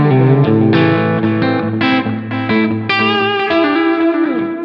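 Electric guitar played through a Brit Trem Norm amp model with a 4x12 Greenback 25 cabinet, heavy wet delay and reverb: a loud, continuous sequence of ringing chords and single notes with long echoing tails and no talking.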